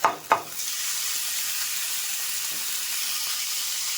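Marinated chicken with ginger-garlic paste hisses in a hot pan, a steady close sizzle that opens with two sharp clatters and then stays even and unbroken.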